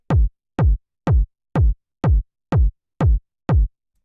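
A punchy 909-style tech house kick drum sample hits eight times at a steady even pulse, each thump short and booming with a sharp click on top, alone and loud.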